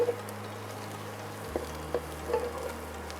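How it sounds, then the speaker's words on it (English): Curry powder cooking in a pan for a Kienyeji chicken curry, giving a faint, steady low sizzle with a few soft stirring clicks, fairly quiet and with no voices. "Now you want your curry powder to cook, so it's a good idea to leave it for about a minute."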